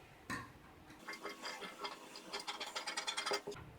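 Scissors cut fabric for a dolman yoke sleeve dress in a quiet room: a series of soft, crisp snips and clicks that grow quicker and more regular toward the end.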